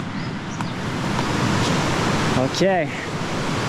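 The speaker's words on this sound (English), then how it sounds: "Rather than waterfall, but... not like a high impressive waterfall, it's more like a Long rapids" Long river rapids and low waterfalls near Don Det, Laos, give off a constant broad rushing roar of water, with a voice speaking briefly near the end.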